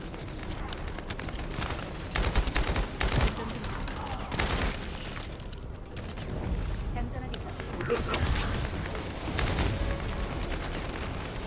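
Hand cannon gunfire in a video game comes as several loud, booming shots in irregular bursts, mixed with game effects and a person talking at times.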